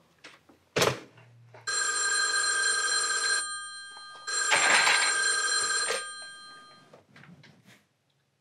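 Telephone bell ringing in two long metallic bursts separated by a short pause, loud and close, with a few knocks and clicks before and after.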